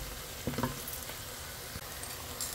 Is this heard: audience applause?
no